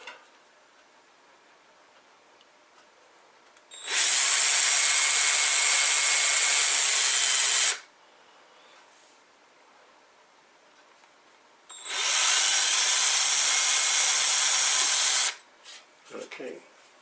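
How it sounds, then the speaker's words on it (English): A power drill whines loudly in two steady bursts of about four seconds each, boring into a part for an Arduino CNC printer build, separated by quiet pauses with faint clicks at the end. "So just incline the drill slightly."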